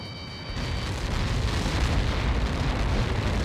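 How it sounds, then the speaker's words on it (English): Massive explosion in the Ace Combat 7 flight game erupts as a loud, sustained roaring blast of rumbling noise that swells and holds for several seconds. "How many got caught in that explosion?"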